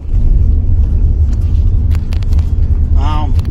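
A family car driving along a road after a wedding gathering, a steady close engine and tyre rumble running throughout, with brief speech-like sounds near the end.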